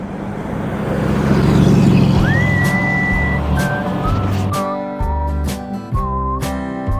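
A 1989 Winnebago motorhome drives along, its engine and road rumble swelling then easing, with a whistling tone and music-like tones layered over the vehicle noise toward the end.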